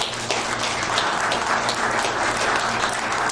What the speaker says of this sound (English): So, speakers, a big round of applause here.